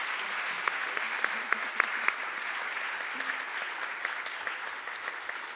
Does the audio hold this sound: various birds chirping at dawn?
no